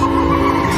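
A car accelerates hard with a sustained skidding tire squeal and steady engine drone, loud and continuous throughout the short burst.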